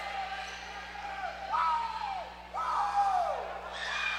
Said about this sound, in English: The crowd is absolutely going wild.